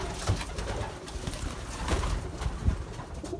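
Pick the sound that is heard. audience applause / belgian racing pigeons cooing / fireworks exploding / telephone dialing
belgian racing pigeons cooing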